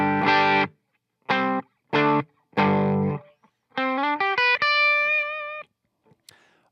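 PRS DGT electric guitar played through a Fender Pro Junior amp miked with an SM57, clean and dry with no effects: a few strummed chords, then a quick run of single notes ringing out before silence.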